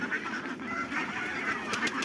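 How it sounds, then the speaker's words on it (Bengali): Ducks kept in a pigeon-keeping setup give short, nasal honking calls, repeating rapidly and overlapping in a steady, close chorus for about two seconds. "এই যে দেখেন হাঁসগুলা"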